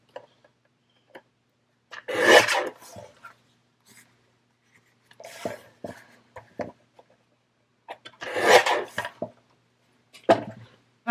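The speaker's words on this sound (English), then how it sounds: "let's trim that off a little bit more." Scissors or a trimmer cutting a decorated vintage book page, a few close, short crisp bursts of snipping separated by quiet pauses, with light tapping in between.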